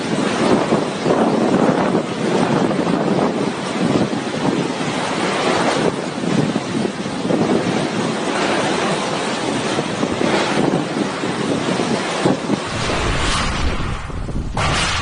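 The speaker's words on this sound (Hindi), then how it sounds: "हवाएं इतनी तेज है कि वो पूरी तरह से हिला दे रही है।" Cyclone Amphan's strong wind roars continuously in Haldia, West Bengal, a loud, dense rushing buffet with gusty surges that hammers the microphone, broken only by a sudden drop near the end.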